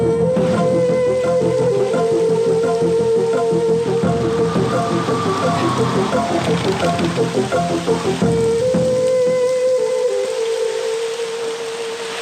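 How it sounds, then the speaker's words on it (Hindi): Heavy rain pours steadily through a night scene in a dubbed South Indian action film, a dense continuous hiss with a sustained tonal drone beneath it, loud throughout. "इतनी बारिश में? बहुत जोर से हो रही है सर।"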